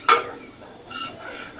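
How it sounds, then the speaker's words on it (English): A utensil scrapes and clinks against a pan as sugar is stirred while it melts into caramel for a chocoflan dessert, with a sharp knock at the start and quieter scraping afterward and no talking. "So just keep mixing, just keep mixing."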